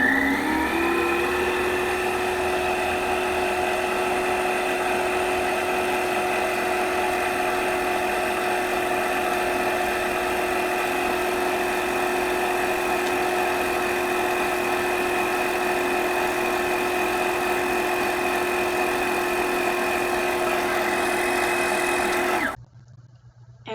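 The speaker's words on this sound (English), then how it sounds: "we can snip the thread tail, turn the machine back on, and set the speed up to 4" Sewing machine winding thread onto a bobbin at a steady high speed, a continuous close whirring hum held for over twenty seconds before cutting off abruptly.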